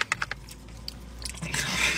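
Someone chews food up close, with a few quick wet bites at the start, then steady soft mastication that turns into a louder, hissing squish toward the end.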